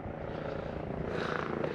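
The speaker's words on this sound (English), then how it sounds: "Is that a chopper back again?" A helicopter flying overhead above a sunny coastal walking path on the Fife coast, heard as a steady, continuous rotor and engine drone that holds at a moderate distance throughout.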